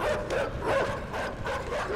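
Dogs in the video game Inside bark and yip continuously at close range. Several repeated barks overlap with a whimpering tone and a steady background noise.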